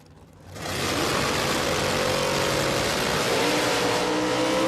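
A drag racing car at Willowbank Raceway in Queensland, Australia, roars in abruptly after a quiet start and holds a loud, sustained engine blast with rising harmonic tones throughout.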